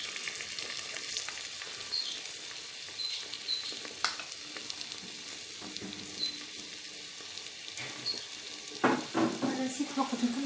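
Tomatoes fry in a pot for barley harira, giving a soft, steady sizzle with occasional stirring scrapes and small clinks, fairly faint and close.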